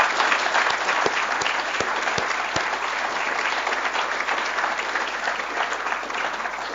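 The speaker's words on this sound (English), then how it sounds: "So perhaps you'd all join me in a final round of applause" An audience applauds at the close of a 2009 public lecture on improving cancer treatments, a dense, steady round of clapping filling the hall from start to finish, with a few sharper claps standing out early on.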